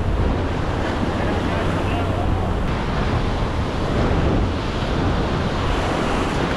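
Ocean waves break and wash against a rocky jetty in a steady, loud roar, mixed with wind buffeting the microphone throughout.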